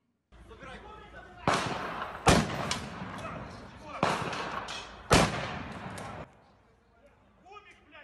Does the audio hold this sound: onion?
no